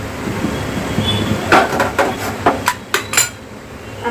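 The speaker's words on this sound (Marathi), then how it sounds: "ही अंडी मिक्स करायचे आहे चांगली मिक्स करून घ्यायची आहे" Two eggs are whisked in a pan with a utensil, producing a series of sharp metallic taps and scrapes in an uneven rhythm, close and fairly loud with no talking.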